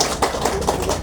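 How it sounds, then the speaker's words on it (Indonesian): A brief burst of audience clapping at a community reading event in Pandeglang, a handful of quick hand claps in a reverberant hall, lasting about a second. "Tepuk tangan dong."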